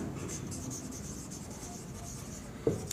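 Pen scratching across paper as a sentence is written on a table, a soft continuous rasp close to the mic with a sharper tap near the end.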